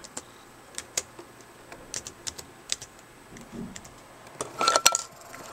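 A folder name is typed on a computer keyboard: sparse, separate key taps at first, then a quick cluster of clacks near the end, close and fairly quiet.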